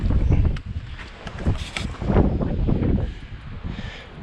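Gusty wind buffets the microphone on an icy Grand Canyon hiking trail, with loud low rumbling bursts that rise and fall and faint crunching steps underneath.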